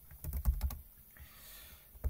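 Close typing on a computer keyboard: a quick burst of several key clicks, a short pause, then one more keystroke, with no speech.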